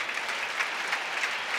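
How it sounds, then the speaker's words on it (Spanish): Crowd at a bullfight in Valencia bursts into sustained applause, a dense wash of clapping from the full stands heard from a distance, steady throughout. "Qué ovación de gala."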